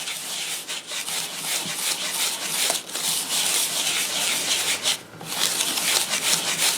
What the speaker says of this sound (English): Now I'm just going to whisk it all together